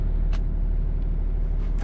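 A car rolls slowly past in a parking lot, a steady low engine rumble that stays close and even throughout, with no voices.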